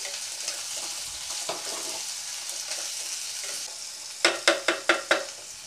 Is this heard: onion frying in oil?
yes